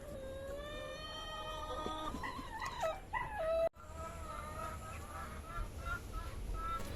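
A female dog in heat kept caged on a farm whimpers and howls in rising, wavering cries near at hand, then settles into a lower drawn-out whine after a brief gap.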